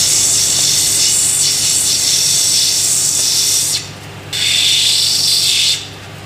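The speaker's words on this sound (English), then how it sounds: "when I grind the rest of the shape, there'll be less material to grind away" Rough agate stone ground on a lapidary wheel to shape a cabochon, a steady loud hissing grind that drops out twice briefly as the stone lifts away, with a motor hum beneath.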